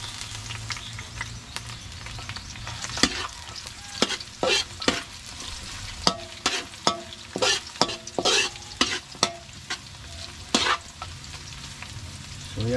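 Onion, garlic, ginger and long chili sautéing in a pan, with steady frying sizzle and repeated sharp scraping stirs of the spatula, close and clear with no talking.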